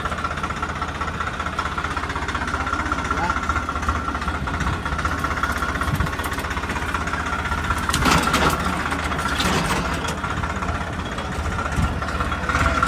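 A new tractor's engine idles near a farm field with a continuous low rumble, swelling with a rougher, louder stretch midway before settling back to a steady run.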